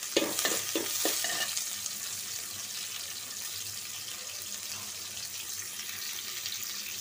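Onions and green chilies fry in a little oil, a bright steady sizzle with a few quick stirring knocks at the start, close and unbroken, no one speaking.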